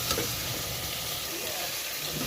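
Mutton added to a hot pan for a simple mutton gravy sizzles steadily as it is mixed, a close, continuous frying hiss with faint stirring underneath.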